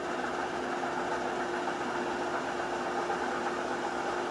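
A WMW UPW 12.5.1 thread rolling machine runs steadily at speed, a constant mechanical hum with a fixed tonal whine that holds even and continuous with no break, and no voices over it.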